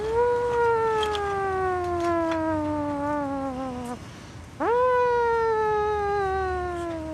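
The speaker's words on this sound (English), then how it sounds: "That's the evacuation siren." A loud wailing siren sweeps slowly down in pitch, cuts off briefly, then rises and wails again, close and prominent with no speech.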